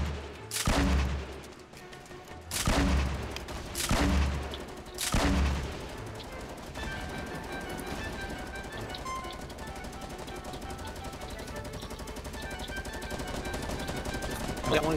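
Automatic weapon fire in Fortnite as a player shoots down a tower during a squad match: several loud bursts with short gaps between them, then a sustained rattling stream of rapid shots.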